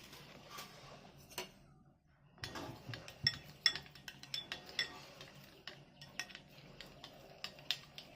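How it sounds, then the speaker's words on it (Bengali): A spoon stirs yeast into milk in a bowl, giving soft, irregular clinks and scrapes against the dish, quiet and close. "দুধটাকে ভালো করে গুলে নেব।"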